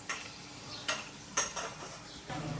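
Papad frying in hot oil, with a soft crackling sizzle broken by a few sharp bright crackle bursts, close and fairly quiet, no voices.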